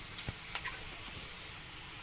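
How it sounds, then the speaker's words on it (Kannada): Chips frying in hot oil give a soft, steady sizzle with scattered light pops and ticks, fairly quiet and close, with no voices. "ನೋಡಿ ಗೈಸ್, ಇಲ್ಲಿ ಈಗ ಎಣ್ಣೆಯಲ್ಲಿ ತೇಲಿಸ್ತಾ ಇದ್ದೀವಿ"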